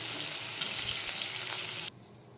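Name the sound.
cauliflower pieces frying in oil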